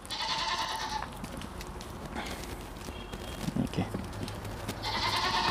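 Goats kept on a farm call out in short bleats near the start and end, with quieter rustling, shuffling and faint hoof sounds between, and some speech mixed in.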